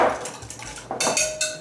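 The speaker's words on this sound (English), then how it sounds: "whisk it all." Whisk scraping and clinking in a bowl of Trader Joe's Green Goddess sauce, a few quick close metallic taps and scrapes over a second and a half.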